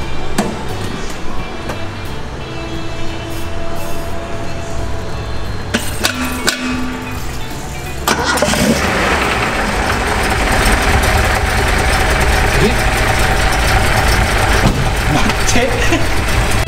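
Classic Nissan Skyline Hakosuka with a carbureted engine cranks and fires up, then settles into a loud, rough, steady idle with a few throttle blips; people talk briefly over the engine.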